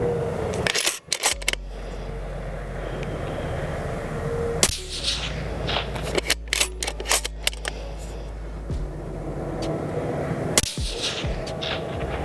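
Rifle shots fired through a Thunderbeast SRR suppressor at an outdoor shooting session, several sharp cracks spread across the stretch, each followed by a short tail, with background handling noise and a low rumble between them.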